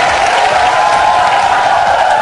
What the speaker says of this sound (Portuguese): Mais aplausos!